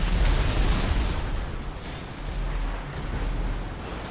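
A tank blowing up in a demolition derby video game, giving a loud, rumbling explosion burst that fades into a lingering roar, with no voices.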